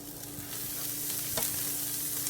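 Butter sizzling in a hot pan while grilled halibut and Brussels sprouts cook, a steady close crackling hiss with a faint stirring scrape, no talking.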